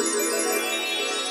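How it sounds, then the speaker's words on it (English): A magical twinkle sound effect plays on a livestream, a brief shimmering, bell-like chime of bright sustained tones with no voices over it. "We'll do a magical twinkle and a double clap for those two super stickers."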